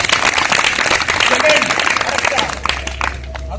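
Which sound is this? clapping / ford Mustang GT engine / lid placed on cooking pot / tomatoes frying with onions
clapping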